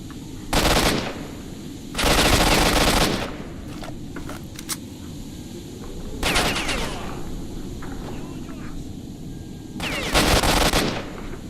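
Automatic weapon fire in the shooter game STALKER: Shadow of Chernobyl, four loud bursts of rapid shots separated by quieter background noise and a few single cracks.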